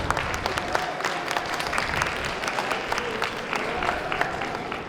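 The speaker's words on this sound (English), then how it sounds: "Another round of applause for Yagyu-Kai USA Arizona" Audience applause from the crowd at the main stage of the 2025 Tucson Japanese Festival, a steady dense wash of clapping across the whole stretch with faint murmur underneath.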